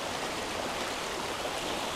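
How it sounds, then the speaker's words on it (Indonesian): A muddy river runs after rain, making a steady, broadband rushing hiss that stays even and unbroken throughout. "kita bisa melihat air sungai yang mengalir ini cukup keruh airnya"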